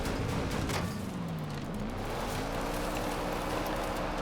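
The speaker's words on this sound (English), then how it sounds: "going to drive right towards them in this Lamborghini Urus" A Lamborghini Urus SUV drives in Forza Horizon 5, its engine giving a continuous loud roar with a pitch that dips and then climbs again as it accelerates, holding close and steady throughout.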